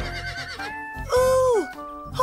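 A horse lets out a loud, close whinny with a long descending neigh, followed by shorter snorting calls, in a children's sports programme about horse riding.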